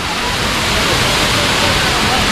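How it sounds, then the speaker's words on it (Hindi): Kailash Gufa waterfall in Chhattisgarh, a dense, steady roar of falling water with no break, loud and close throughout. "तो ये रहा यहाँ का वाटरफॉल, कैलाश गुफा का वाटरफॉल आप लोग देख सकते हैं।"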